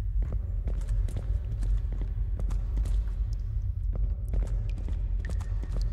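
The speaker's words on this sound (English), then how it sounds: "I hear more footsteps behind us." Steady footsteps crunch along in a short psychological horror game, regular close steps layered with a low ambient rumble, continuing throughout with no talking.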